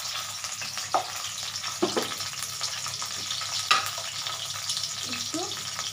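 Potatoes with turmeric and chilli powder frying in hot oil, a steady close sizzle with a few scraping knocks of a spatula and faint background hum.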